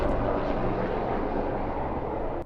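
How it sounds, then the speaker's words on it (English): Helicopter passing almost directly overhead in the UK, a steady loud low rotor and engine roar that holds through the clip before dropping off sharply at the end. "Helicopter."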